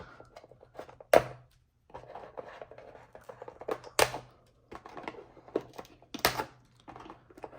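Plastic G.I. Joe Cobra H.I.S.S. tank attachments are cut loose, quiet close-up clicks and rustles with three sharper snaps as pieces come free.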